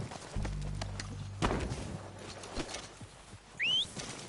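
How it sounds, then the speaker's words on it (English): Horses' hooves clip-clop faintly in Red Dead Redemption 2, a few soft scattered hoofbeats over a low steady hum, with a brief bird chirp near the end. "They're coming down with the horses."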